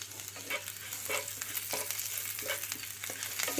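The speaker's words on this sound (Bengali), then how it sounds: "ওই তেলের মধ্যে দেব আদা কুচানো আর রসুন কুচানো" Chopped ginger and garlic stirred in hot oil give a steady crackling sizzle with periodic swishes from the stirring spoon, close and moderately loud, no talk.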